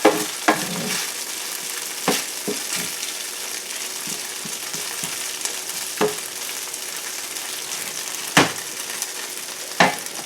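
Sauce thickening in a pan for vegan sticky tofu bowls, with a steady sizzle and bubbling and sharp scraping clicks as a utensil stirs it, heard close with no talk.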